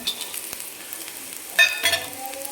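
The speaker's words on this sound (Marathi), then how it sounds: "लगेच त्याच्यामध्ये खोबरं टाकून घेणार आहे" Grated coconut tossed in a pan beside onion already fried reddish-brown, for a spicy mutton rassa: a low, steady sizzle with a couple of brief utensil knocks and stirring scrapes midway.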